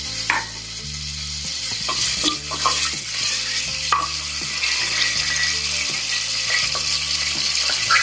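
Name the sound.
whole spices sizzling in hot oil for mutton biryani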